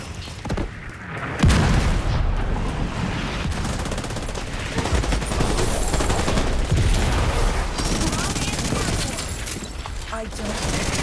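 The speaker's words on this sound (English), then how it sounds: "Mortars are coming from a mobile unit near the shoreline south of your position" Mortar rounds from a mobile launcher near a shoreline in The Division 2 burst in heavy booms and rolling gunfire, loud and sustained, with a voice talking over the battle.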